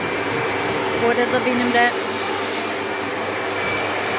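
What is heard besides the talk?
household vacuum cleaner cleaning a car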